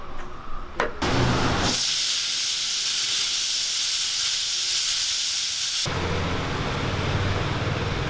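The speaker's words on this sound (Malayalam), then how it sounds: "കുക്കറിലെ എയറെല്ലാം പോയിട്ടുണ്ട്" Pressure cooker on a stove cooking Kerala beef, venting a loud, continuous steam hiss for several seconds after a few clicks, then cutting off abruptly to quieter kitchen background.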